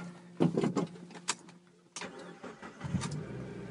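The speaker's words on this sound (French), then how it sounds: "Alors le véhicule démarre" A cold car engine cranking with a few rapid whirring bursts, then catching and settling into a steady idle, close and fairly quiet.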